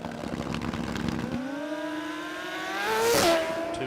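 A Suzuki drag racing motorcycle built by Pro Cycle Dyno launches down the strip at Willowbank Raceway in qualifying, its engine note rising steadily in pitch as it pulls away, then a louder whoosh near the end.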